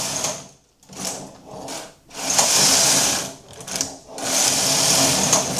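A knitting machine carriage is pushed back and forth in several loud, rasping sweeps separated by brief pauses, close up and with no voices.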